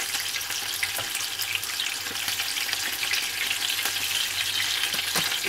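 Steam-cooked chicken for chargha fries in hot oil, one side after the other, with an even, close crackling sizzle and occasional light clicks.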